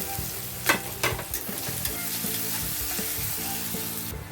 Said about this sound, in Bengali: পেঁয়াজটাও ভালো করে ব্রাউন করে ভেজে নেবো